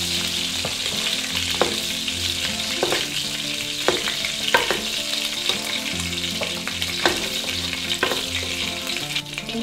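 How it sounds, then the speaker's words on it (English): Pork belly frying in a pan, a steady crackling sizzle with sharp spatters and pops scattered through it and occasional scraping stirs, close and continuous without talk. "We're gonna fry this on both sides for about 7 minutes"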